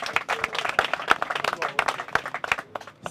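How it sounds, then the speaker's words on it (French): A small audience at an evening event in Bukavu claps in scattered, uneven bursts, fairly close and moderately loud, with some crowd murmur mixed in. "merci d'applaudir."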